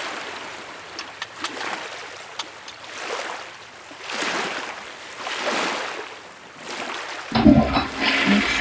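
A toy toilet in a Mickey Mouse Clubhouse playset flushes with a steady watery swishing that rises and falls for several seconds, ending in a louder, brighter burst of play sound.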